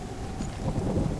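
Heavy rain pours steadily in Hellblade: Senua's Sacrifice with a low rumble of thunder rolling underneath, a dense, continuous wash of sound with no voices.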